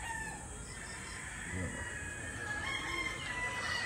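A White Claret street-breed gamefowl rooster crows against a steady background hum, in a yard where young roosters are tied, while someone talks faintly nearby.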